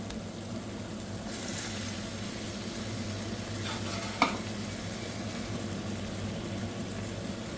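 Vegetable pieces frying and being stirred in a pan, a steady soft sizzle running throughout with a single sharp clink of the spoon partway through; no talk.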